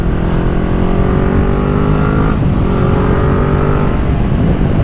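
A motorcycle roars close and loud as it accelerates to overtake on an open road, its engine note climbing steadily with a brief dip partway through, wind rushing over the rider.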